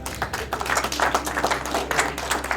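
An audience at an album launch event claps steadily to welcome a guest, producing a dense, continuous patter of many hands at moderate level, with little talk.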